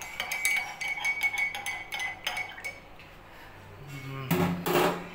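A spoon clinks and taps against a coffee cup during stirring, with a quick series of sharp metallic chinks, a short pause, then a louder cluster of clinks near the end, all close and with no voices.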